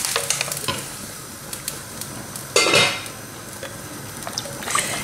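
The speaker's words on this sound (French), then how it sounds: "Et je laisse ma marmite cuire à feu vif en la mélangeant régulièrement sans la couvrir jusqu'à ce que le tout soit correctement cuit." Wheat stew cooks in a pot over high heat while being stirred, giving soft sizzling and scraping with occasional clinks of the spoon and one louder clatter in the middle.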